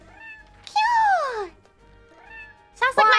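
A cartoonish cat meows twice in a video game, a long bending meow followed later by a shorter one, with a voice chattering over the second.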